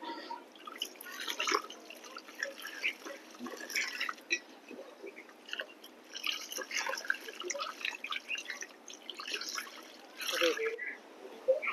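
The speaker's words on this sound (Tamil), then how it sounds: "இப்போ தண்ணி ஊற்றிடலாம்" Water is poured onto the soil around a newly planted Panneer grape vine, producing soft splashing, trickling and dripping that rises and falls in uneven bursts, with some voices in the background.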